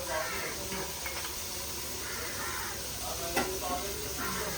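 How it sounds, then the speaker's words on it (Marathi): Dried fish frying crisp in a pan, a steady dense sizzle and hiss throughout with occasional faint clinks, close and continuous. "हे तळलेली मच्छी पण 1 मिनिटात होईल"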